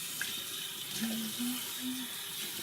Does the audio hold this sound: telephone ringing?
no